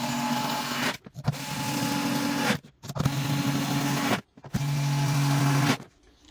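A power screwdriver drives screws into an extruded polystyrene Lyson beehive box, running in four sustained whirring bursts separated by short pauses, loud and close with no talking.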